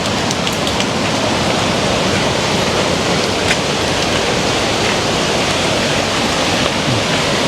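A river rushes steadily nearby with a loud, continuous broadband roar and no breaks or voices over several seconds.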